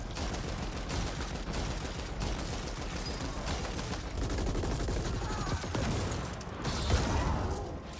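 Rapid weapon fire from The Ascent, a dense clatter of shots and mechanical clanks layered over a busy game soundscape, moderately loud with a heavier burst near the end.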